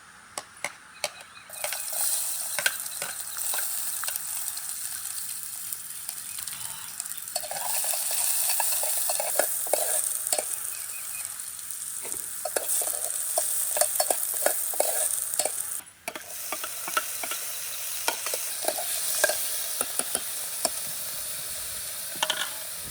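Onions and tomatoes being stirred and fried for Maggi in a pan over a wood fire outdoors in a jungle, with steady sizzling and repeated scraping stir strokes throughout, close and fairly loud, no talking.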